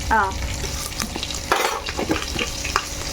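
Cloves, cinnamon, shahi jeera and bay leaf fry in hot oil for chicken dum biryani, giving a steady close sizzle broken by scraping stir strokes and a few louder spurts.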